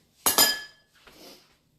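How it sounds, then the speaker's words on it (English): A whisk knocks twice in quick succession against a bowl while mixing batter for paleo vegan blondies, giving bright metallic clinks followed by a softer scrape, close and alone. "So maybe I'm going to get my whisk out. I want to see how the whisk does with this."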